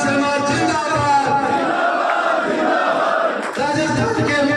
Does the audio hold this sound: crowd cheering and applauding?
yes